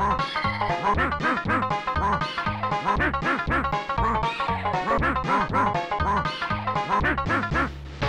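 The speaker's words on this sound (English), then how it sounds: "That sounds so just like quacking." A retro computer game produces a rapid, rhythmic run of honking, quack-like synthesized blips, loud and continuous, layered into a busy repeating tune.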